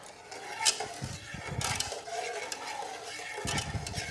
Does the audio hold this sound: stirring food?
yes